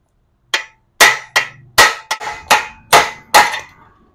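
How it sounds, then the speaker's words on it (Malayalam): A socket is hammered to drive a swingarm bearing out of a Pulsar NS 200 motorcycle, giving eight sharp metallic strikes in an uneven rhythm, close and loud, each ringing briefly. "അപ്പോൾ ആ ബോക്സ് വെച്ച് ജസ്റ്റ് ഒന്ന് അടിച്ചു കൊടുത്താൽ തന്നെ ബെയറിംഗ് പുറത്തോട്ട് വരും."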